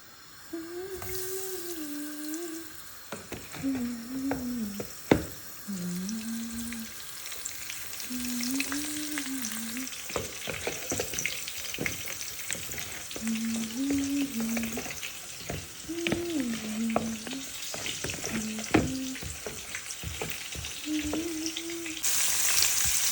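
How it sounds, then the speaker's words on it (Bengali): Fish fried in hot oil for a mash dish, a loud, close, continuous crackling sizzle with stirring clatter, while a voice hums a tune over it intermittently throughout. "এখানে মাছটা ভাজছি"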